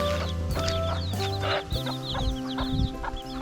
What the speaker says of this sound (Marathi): पण इथे कोंबड्या आहेत हे बघा